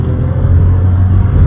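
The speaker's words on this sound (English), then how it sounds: "Full acceleration, kick down," A 2023 Škoda Slavia's 1.0 TSI turbo petrol engine under full-throttle kick-down acceleration, a loud, steady low engine drone with a rising tonal hum, close and continuous with no talk.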